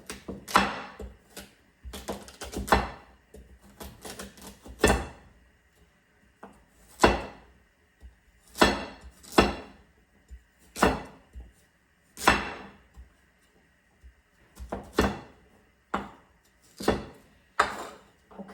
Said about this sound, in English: So you can see how I chop them.